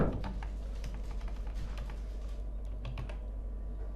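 Typing on a computer keyboard, with steady clusters of light key clicks close by over a constant low hum, no talking.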